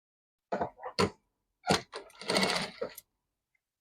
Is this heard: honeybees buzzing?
no